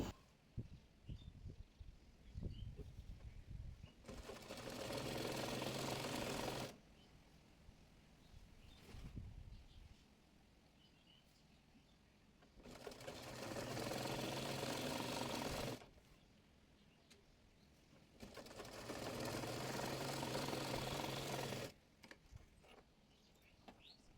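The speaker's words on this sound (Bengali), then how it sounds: "ওইভাবে অপর পায়ের মোহরিটিও মুড়িয়ে সেলাই করে নেব।" A sewing machine stitches the folded hem of a palazzo leg in three separate steady runs of whirring needle action, close and fairly loud, with quiet handling and rustling of fabric in the pauses between.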